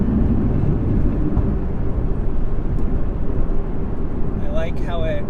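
A 2021 Chevrolet Camaro ZL1 1LE fitted with a new Rotofab intake gives a loud, close, deep engine rumble that holds steady throughout, with a brief voice near the end.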